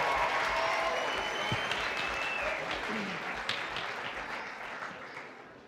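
Sustained applause from an audience for the dancers Russ and Jamelia at a faculty dance show, a dense steady clapping that fills the room and slowly fades toward the end, with a few voices mixed in underneath.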